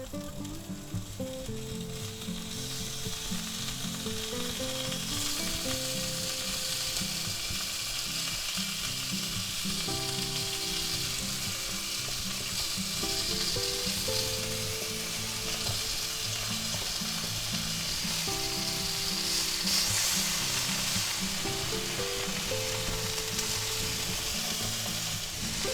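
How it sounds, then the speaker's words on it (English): Roasted pork tenderloin pieces sizzle in a hot pan, a dense, steady hiss of frying with rhythmic scraping and stirring clatter from a utensil running throughout, close and alone without talk. "while our pan's still nice and hot, we're going to take our nice pork tenderloin that we made the other day"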